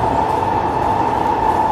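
A Kawasaki Heavy Industries and Nippon Sharyo C751B metro train in Singapore runs with a steady, loud motor whine over a rumbling rolling noise, holding constant throughout.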